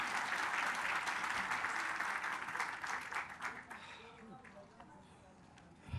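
A crowd at a political event in Avcılar, İstanbul, applauds the district mayor with dense, sustained clapping that gradually thins and fades toward the end, with a voice briefly audible under it.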